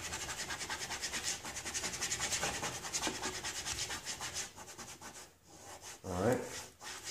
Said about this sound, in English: take my squeegee, and start laying it down. I think in the decal world they call it burnish